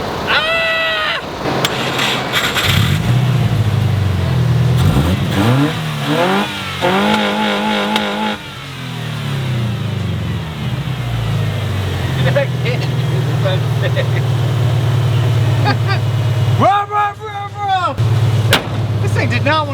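A Subaru car engine cranks and sputters, then catches and revs loudly several times, with people talking over the noise.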